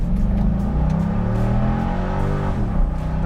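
A 1999 Corvette convertible's V8 revs steadily toward 6,000 RPM, a loud continuous engine roar rising in pitch and then easing off near the end, heard up close.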